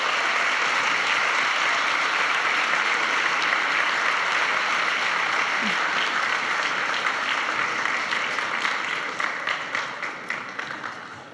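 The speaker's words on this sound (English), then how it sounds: "Let's give them a big round of applause." An auditorium audience at a global business case competition final gives sustained, dense applause that stays loud and even before thinning out into a few scattered claps at the end, with no voices.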